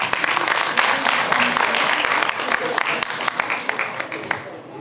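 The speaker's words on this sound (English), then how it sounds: "Please give them a huge round of applause." Audience at a college annual function applauding, a dense sustained crowd clapping that carries on steadily and thins slightly toward the end, with voices mixed in.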